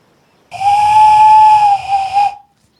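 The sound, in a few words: person imitating a noise with their hands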